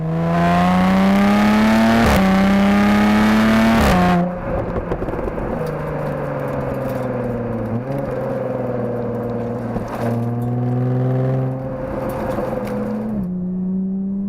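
A Jaguar F-Type 400 Sport Convertible accelerates hard, its engine note climbing steadily through several gear changes, with short dips between rising sweeps. It comes through loud and close, and no one talks over it.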